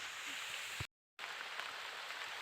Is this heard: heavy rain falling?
yes